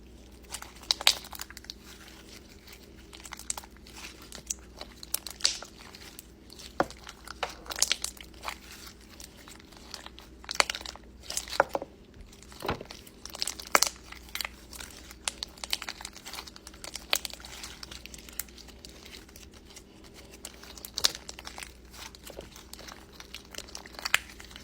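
Crunchy slime is squeezed and pressed by hand, giving a steady stream of close, crisp crackles and pops, with irregular clicky bursts and no talking.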